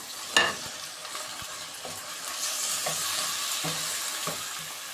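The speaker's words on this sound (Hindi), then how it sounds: "कीमे को हम अच्छे तरीके से लहसुन अदरक के साथ फ्राई करेंगे।" Minced meat fries in a pan with garlic and ginger, giving a soft continuous sizzle with occasional spoon scrapes and stirring clatter, fairly quiet and without talk.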